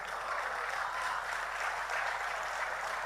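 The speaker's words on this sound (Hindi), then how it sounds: "अब जिन जिनको कंफर्म है कि वो सनातनी है उनने ताली बजा ली।" A poetry recital audience in Nimbahera claps in steady, dense applause that stays at an even level throughout, with no voices over it.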